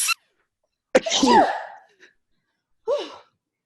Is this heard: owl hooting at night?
no